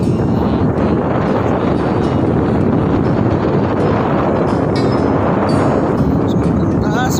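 Strong wind roaring across the microphone high up on a tall tower, a loud constant buffeting rush that fills the whole clip, with a voice faintly present under it.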